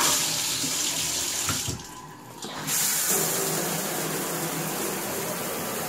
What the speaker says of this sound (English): The water comes out.